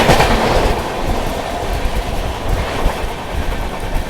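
Purushottam Express train running fast on rails, a loud continuous rumbling roar from close by with faint irregular clicks of wheels over track joints, no voices.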